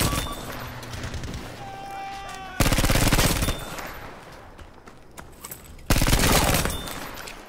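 Bursts of rapid automatic gunfire from a gun in the Battlefield 5 video game, two loud sustained volleys separated by quieter background battle noise, with brief fainter shots in between.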